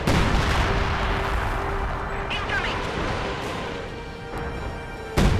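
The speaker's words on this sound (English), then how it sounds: "Nilon has his own howitzer up. And there we go, counter-artillery. He's firing on the Soviet howitzer." Howitzer artillery fire rumbles in the Company of Heroes 2 game as counter-battery fire is traded, with low booming blasts under steady background noise and a sharp report near the end.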